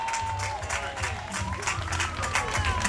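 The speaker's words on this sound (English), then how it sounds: "put your hands together for Andre Saya" A festival crowd in Paterson, New Jersey, applauds and cheers as the city's mayor is introduced at an evening event, with steady clapping and crowd noise filling the air and a hint of voices mixed in.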